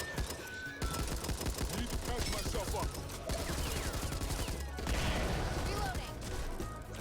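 Rapid LMG fire in the zombie shooter Back 4 Blood, dense continuous bursts of automatic gunshots ringing out almost nonstop after a brief quiet start, with voices talking underneath.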